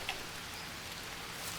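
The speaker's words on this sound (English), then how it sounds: "Because it is raining." Steady rain falls in the survival game Green Hell, an even, dense hiss of drops on surfaces that holds without a break and carries no talk.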